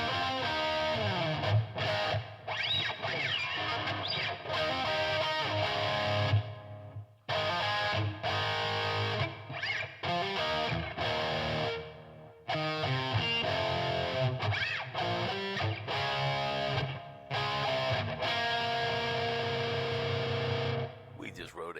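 An electric guitar with distortion and effects plays a pop country chord progression with tension and release, strummed phrases broken by brief pauses, and a voice speaking between parts.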